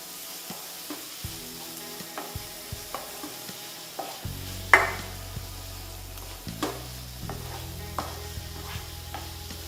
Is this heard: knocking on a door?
no